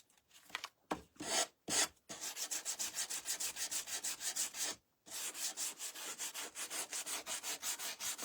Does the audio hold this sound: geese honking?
no